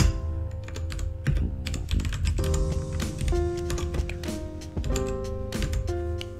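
Rapid keystrokes clatter on a computer keyboard, a close, dense run of sharp clicks and taps with brief pauses, heard alone over a faint musical tone.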